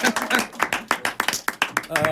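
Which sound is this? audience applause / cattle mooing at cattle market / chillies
audience applause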